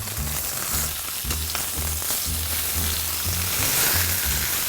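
Veal for a Provençal osso buco browns in a hot pan, a steady broadband sizzle and crackle with low bubbling pulses underneath, continuous and close with no voices.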